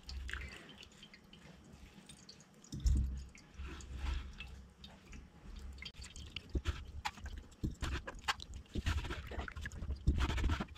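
Soaked ragi (finger millet) is pressed by hand and strained for its juice, giving wet squelching, dripping and trickling sounds in irregular bursts, close and fairly quiet, with no talk.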